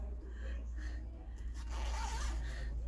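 Zipper on a windbreaker jacket being handled, with brief scratchy zip strokes and rustling fabric, close and quiet, over a low background hum.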